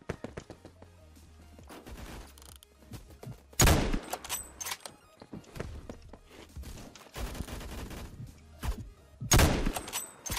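Gunfire in the video game Phantom Forces: bursts of rapid shots and louder single sniper-like blasts spread across the clip, with thumps and footsteps between volleys.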